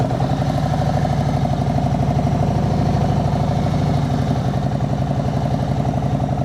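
A motorcycle engine at low-speed practice, close and loud, with a rapid pulsing idle-like throb that swells slightly with throttle and then settles, continuous with no talk.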